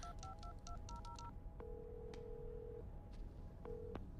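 A run of DTMF telephone dialing tones in quick rhythmic bursts, then long single ringback tones repeating while the call goes unanswered, heard alone and clearly.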